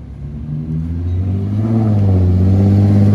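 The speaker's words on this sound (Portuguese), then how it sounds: "Jaguar F-Type S." A Jaguar F-Type S sports car accelerates on a road, its engine note rising steadily in pitch and growing louder as it revs, a close continuous roar with no talking.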